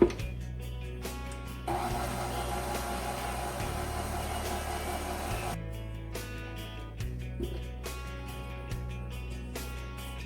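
Hazelnut cupcake batter being mixed until combined, with a steady motor whir that shifts pitch and intensity partway through, broken by faint clicks and knocks, heard close and continuous.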